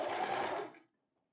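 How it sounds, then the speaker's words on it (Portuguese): A sewing machine runs a fine, narrow seam on a wrap-style tank top, buzzing steadily for most of a second before stopping into silence; nearby and alone. "E vai passar uma costurinha bem fininha aqui."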